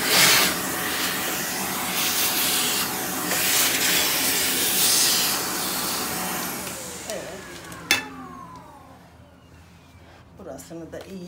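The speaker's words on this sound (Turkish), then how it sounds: "Şimdi süpürgeyi biraz da şu içerisine tutuyorum." Handheld vacuum cleaner sucking debris from inside a robot vacuum, a loud close hissing roar that shifts as the nozzle moves, then cuts off with a clack and fades, leaving small handling clicks.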